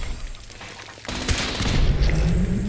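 Sustained video game gunfire aimed at a turret in Fallout 76, a dense burst that starts abruptly after a quieter stretch and grows louder and fuller, with booming low rumble and no talking.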